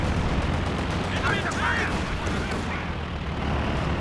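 Artillery shells from a sector assault strike pound the ground in Company of Heroes 2 in a dense, continuous roar of blasts, with a voice talking over them.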